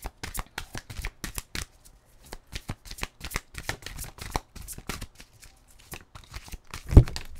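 Tarot cards being shuffled by hand to draw an advice card, quick bursts of riffling and flicking in uneven rhythm, close and clear, ending with a firmer tap.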